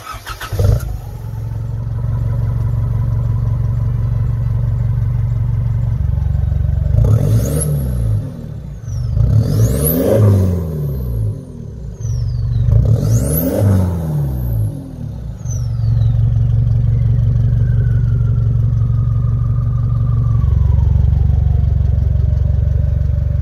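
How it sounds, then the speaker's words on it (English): A 2015 Isuzu D-Max 3-litre engine idles with a steady low rumble, then revs up three times in sharp bursts with a rising whistle, settling back to a loud idle. "we'll just quickly start the exhaust up so you can hear what"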